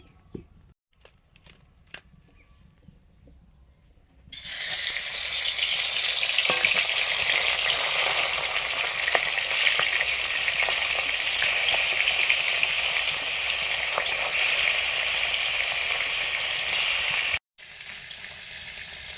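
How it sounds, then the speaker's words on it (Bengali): Rui fish frying in hot oil in a home kitchen, a loud continuous sizzle that bursts in after a quiet start and holds steady for about thirteen seconds before a brief cut. "তেল দিলাম মাছ ভাজার জন্য।"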